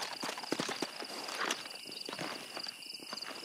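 A horse's hooves clip-clop in the Red Dead Redemption video game: a steady walking rhythm with soft, evenly spaced hoof strikes under a quiet ambient bed, and no talking.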